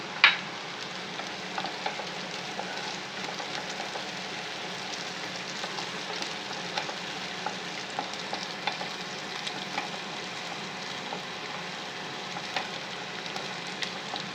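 Green chillies and curry leaves fry in hot oil with a close, steady sizzle and scattered small pops, with no voices over it.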